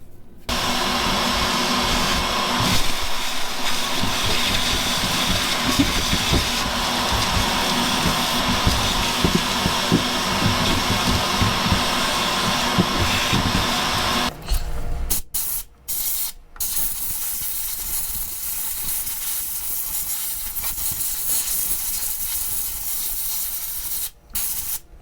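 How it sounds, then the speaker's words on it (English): A shop vac sucks up dirt and debris around the fuel tank area of a 1999-2004 Jeep Grand Cherokee WJ. A loud, steady roaring hiss runs for about fifteen seconds, followed by choppier suction with brief cutoffs and gaps. "I'm going to bring my shop vac in here and scrape all this up"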